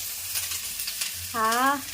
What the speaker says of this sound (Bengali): আর এদিকে ফুলকপি ভাজা হচ্ছে